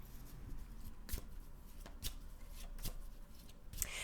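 A deck of cards is handled and a card drawn, giving several soft, brief papery flicks and slides at close range in a quiet room.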